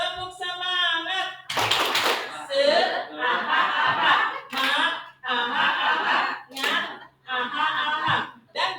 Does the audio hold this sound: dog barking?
no